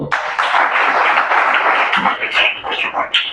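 A church congregation claps together during a sermon, producing dense, continuous applause that stays loud and close for a few seconds and thins slightly toward the end.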